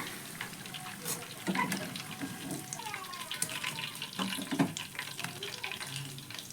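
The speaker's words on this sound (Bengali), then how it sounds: "তো একইভাবে বন্ধুরা বাকি পিঠেগুলোও ভেজে নেব" Suji pitha, semolina cakes, frying in hot oil over a medium-high gas flame, giving a steady soft sizzle with a few clinks of utensils and some watery bubbling, close by and with no voices.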